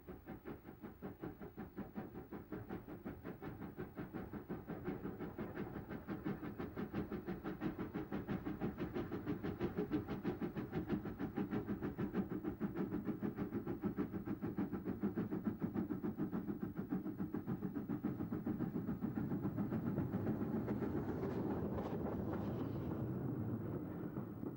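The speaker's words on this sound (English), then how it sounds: "Thomson produced a standard class K1, one of which is owned by the same group who own Joan, the North Eastern Locomotive Group" An LNER class K1 mogul steam locomotive works steadily for about 25 seconds, a dense continuous chuffing and rumble of even loudness, with a brief hiss of steam near the end; no voices.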